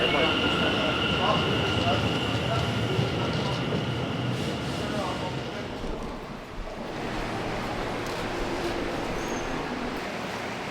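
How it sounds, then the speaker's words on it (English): A subway train rumbles steadily through Barking Station, with a broad low roar and rail noise throughout and faint background voices mixed in. "I'm here on the entrance to the subway at Barking Station."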